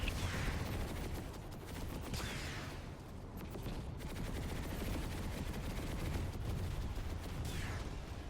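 Sustained heavy gunfire from a tank-and-infantry battle in a military drill video game, dense overlapping rifle and machine-gun bursts rolling continuously without pause, loud and close throughout.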